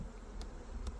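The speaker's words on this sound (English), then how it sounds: "These bees are actually pretty calm." Calm honeybees buzzing as a faint, steady hum close by, with a couple of brief brighter blips standing out over the low drone.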